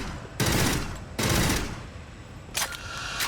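An M41A3 burst rifle fires in the Aliens: Fireteam Elite video game: two loud, sustained bursts of rapid gunfire, then a shorter third burst after a brief lull.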